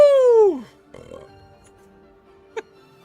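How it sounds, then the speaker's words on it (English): A loud, drawn-out burp that slides downward in pitch for about half a second, followed by faint rustling and a brief sharp click. "I just fucking burped when I said woo"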